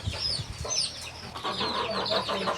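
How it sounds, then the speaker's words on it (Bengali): Fayoumi chickens on a small farm, several birds clucking and calling in short overlapping bursts, fairly close and moderately loud, with no talking. "এই মুরগিগুলো বর্তমানে পরীক্ষামূলকভাবে পালন করছি।"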